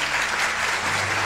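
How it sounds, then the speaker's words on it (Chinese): Studio audience applause welcoming the first treasure holder onto a televised antique appraisal show, a brief, even spell of many hands clapping at moderate loudness, with a low hum beneath. "那让我们用掌声请出今天第一位持宝人上场"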